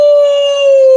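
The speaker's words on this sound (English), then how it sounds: "Oh, the wolf howling." A single steady wolf howl holds one sustained, loud, unwavering pitch for about a second, alone with no talk over it.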